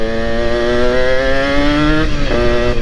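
A Kawasaki Ninja two-stroke fitted with a Superkips block screams at high revs, a loud, close, sustained buzzing whine whose pitch climbs steadily, then dips and steps back up near the end.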